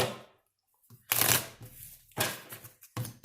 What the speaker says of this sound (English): Let's take 4 shuffles.